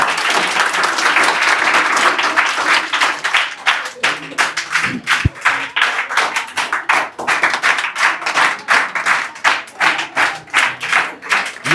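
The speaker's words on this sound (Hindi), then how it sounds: "इनके लिए भी आप लोग जोरदार ताली बजा दीजिए।" A village school crowd applauds a student medal winner at a prize ceremony. Loud, dense clapping starts out as a continuous roar, then thins into sharper, separate claps that fall into a loose rhythm.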